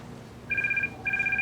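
A telephone rings in two short electronic trills separated by a brief gap, fairly clear against a quiet background.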